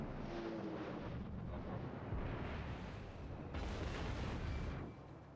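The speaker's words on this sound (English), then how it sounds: "so I'll try to take a shot at him instead of anything else at the moment" Main-battery salvo from an Iowa battleship in World of Warships, a broad deep roaring blast with a rumbling sustained tail and a second surge of noise partway through, loud over steady background rumble.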